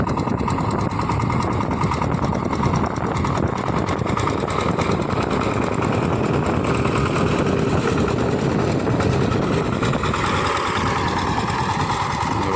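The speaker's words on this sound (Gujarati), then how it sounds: "મિની ટ્રેક્ટર આવી ગયું છે" A small tractor engine runs steadily up close during sowing on a farm, a loud, even chugging drone with no pauses for the whole stretch.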